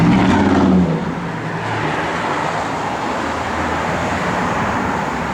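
Deep, throaty rumble of a 1970 Chevrolet Nova SS engine, loud at first, then settling into a steady idle with slight rev fluctuations, heard close up and alone.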